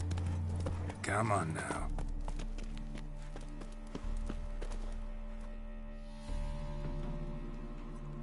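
Hooves of the horse Roach clip-clopping in the video game The Witcher 3, a steady rhythmic clatter under game music and ambience, with a voice speaking briefly early on.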